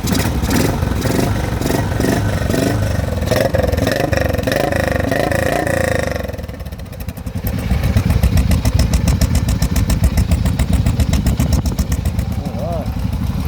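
Engine with a performance cam, open exhaust and open air cleaner cranks and fires up, settling into a loud, lumpy, throbbing idle after a brief dip, steady and close throughout.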